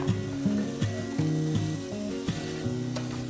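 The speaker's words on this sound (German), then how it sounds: "Und während die Zwiebeln angebraten werden" Onions and garlic frying in olive oil in a warm pan, a steady moderate sizzle with a few soft stirring knocks recurring every half second or so, close by and with no talking.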